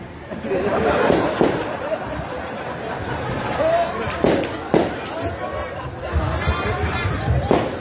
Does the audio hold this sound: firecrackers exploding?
yes